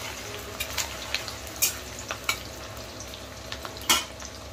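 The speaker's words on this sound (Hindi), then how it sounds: "पियाज भी भाजदबा" Chopped onions fry in hot oil with a continuous crackling sizzle, punctuated by a few sharp clinks of a spoon stirring against the pan.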